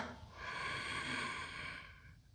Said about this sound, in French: Trois respirations.